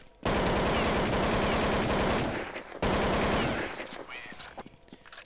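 Sustained automatic gunfire from Counter-Strike 1.6 on dust_2, a dense rapid burst lasting a couple of seconds, a brief gap, then a second long burst that tapers into scattered shots, loud and close.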